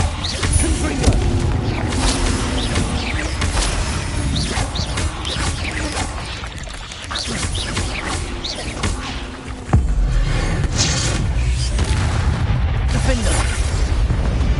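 The Confringo fire blast spell goes off in Hogwarts Legacy combat as loud, booming bursts. A strong impact lands near the ten-second mark, over continuous dense game noise and effects.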